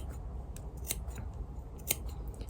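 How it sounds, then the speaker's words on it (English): Scissors snip close to the seam edge of fabric for a rag quilt cushion, giving a few quiet, close, crisp cuts over a soft background hiss. "I'm actually going to snip now. So really closely at the edge"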